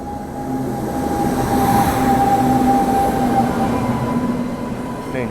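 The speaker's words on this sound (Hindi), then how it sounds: "सियालदह राजधानी जो है वो आ रही है" The Sealdah Rajdhani express rumbles past at close range in fog, a loud steady roar of wheels and carriages. A high squealing tone runs through it the whole time.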